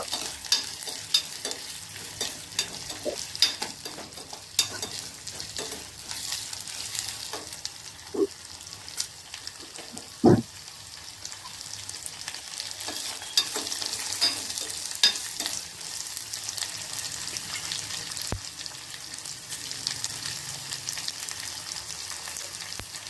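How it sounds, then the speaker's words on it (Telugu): Onions sizzle steadily as they fry in a pan, with the scrape and clatter of stirring breaking through now and then, including one sharp knock midway; close and continuous, with no talking. "ఇప్పుడైతే ఉల్లిగడ్డలు వేసేసుకుందాము. ఇది కొంచెం మగ్గనిద్దాం ఫస్ట్."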